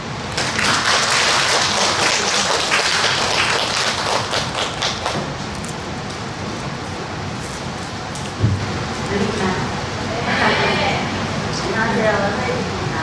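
An audience at a parent book-sharing volunteer training session applauds to welcome a speaker: steady, dense clapping that swells early, then thins and fades over several seconds, with a single thump midway.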